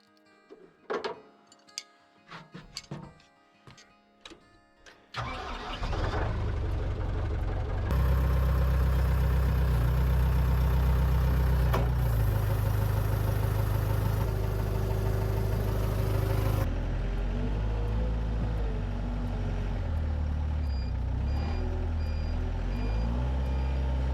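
A skid steer engine cranks and catches with a sudden loud roar after a few faint clicks and clunks, then settles into a steady, heavy diesel-like running drone close by, with the revs rising and later dropping back to a lower idle.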